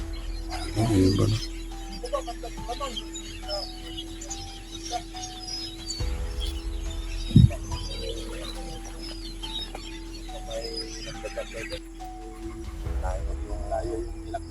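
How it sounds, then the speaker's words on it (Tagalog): Birds chirp and twitter faintly in the distance outdoors, scattered short calls over a low steady hum, with a few louder thumps and rustles nearby. "Ang ibon."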